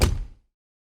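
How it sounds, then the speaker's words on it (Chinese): A single heavy thunk like a door swinging shut, used as a stand-in effect for a film projector: a loud low impact at the start that decays quickly into silence within half a second. "我们觉得它有点像关门的声音"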